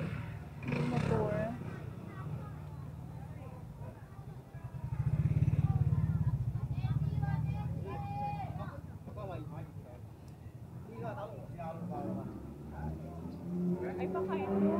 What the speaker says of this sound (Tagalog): Yung motor.